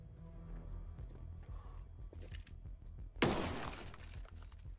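Glass shatters loudly in Ghost Recon Breakpoint, a sudden bright crash about two-thirds of the way through that leaves a ringing, scattering tail over low rumbling game ambience.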